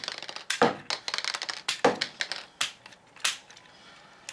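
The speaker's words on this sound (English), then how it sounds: "Now let's try again with that missile launcher. Oh yeah, now it's firing like a..." A Takara Transformers Beast Wars toy missile launcher fires a series of sharp plastic clicks and snaps, about a dozen irregular close taps, quiet overall with no talking.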